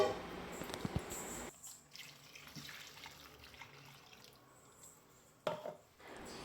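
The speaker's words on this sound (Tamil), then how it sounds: "நல்லா அந்த ஜார்லேயே தண்ணியை நல்லா அலசி இதில் ஊற்றி நல்லா கிளறி விட்டுக்கோங்க" Water rinsed out of a blender jar pours into a pot of spicy country chicken curry, a brief splashing run from the tap and pour at the start, then quiet kitchen room sound with a short clatter near the end.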